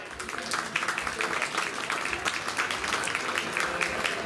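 Spectators at a youth sheep show in a county fair ring give a continuous round of applause, an even, fairly loud patter of many hands lasting the whole stretch.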